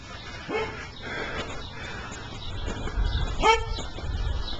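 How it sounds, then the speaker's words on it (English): A small, elderly dog gives a few short yips and barks, moderately close, over a quiet residential background with low traffic rumble, the loudest bark near the end. "it's pretty quiet except for my little old dog having a bit of a bark"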